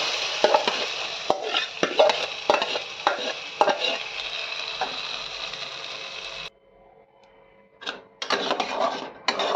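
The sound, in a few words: stirring pointed gourd paste with frying onions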